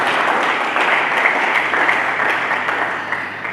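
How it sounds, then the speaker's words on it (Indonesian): A church congregation gives warm, sustained applause during a sermon, with many hands clapping steadily at even loudness throughout. "Mari kita berikan tepuk tangan yang meriah."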